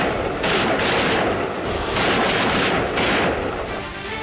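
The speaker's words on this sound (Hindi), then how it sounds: "कभी भी पाकिस्तानी फौज के मशीन गन से राउंड निकलने लगते हैं।" Machine gun fire rattles at the Line of Control in Jammu and Kashmir, with several loud, dense bursts of rapid shots separated by short pauses.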